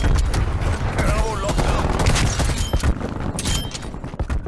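Automated sentry turret firing in Call of Duty: Black Ops Cold War multiplayer, a dense, continuous burst of rapid gunfire mixed with other battlefield shots and impacts, loud throughout.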